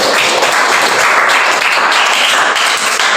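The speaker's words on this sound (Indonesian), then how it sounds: "Nah, tepuk tangan." Loud, continuous clapping from a group in a teaching session, a dense unbroken patter of many hands that holds at full level throughout.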